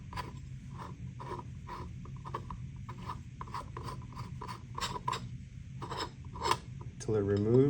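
The bezel of an LX Pro light is twisted counterclockwise by hand or with a tool, giving a quiet, regular series of small ratcheting clicks and scrapes over a low hum.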